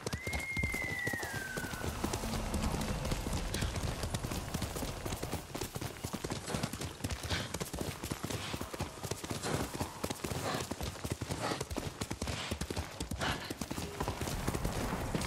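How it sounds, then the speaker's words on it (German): Horse hooves in Ghost of Tsushima clip-clop in a steady, rapid rhythm from start to finish, loud and close, with a brief whinny near the beginning. "Braves Pferd, Kage."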